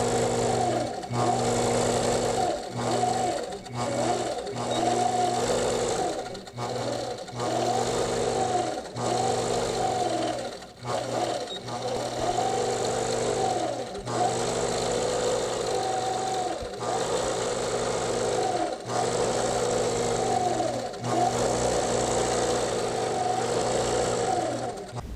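APQS longarm quilting machine stitching a pantograph row on a quilt: a steady, loud motor hum with rapid needle chatter running continuously, pausing briefly now and then as the machine is guided across.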